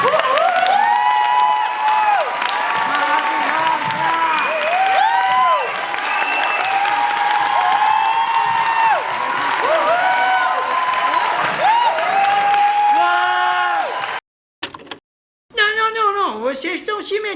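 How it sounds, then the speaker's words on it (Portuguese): A standing crowd at a dubbing panel event claps and cheers loudly, with many voices shouting and whooping over sustained applause, then a brief cut-out before the noisy cheering resumes. "Vamos dar uma salva de palmas"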